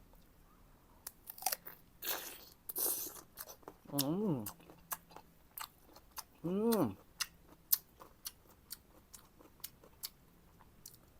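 Close, crisp bites and wet chewing of a mango, scattered crunchy clicks throughout with soft hummed "mm" sounds of enjoyment over the quiet eating.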